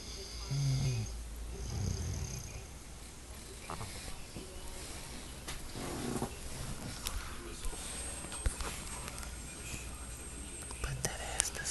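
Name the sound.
person snoring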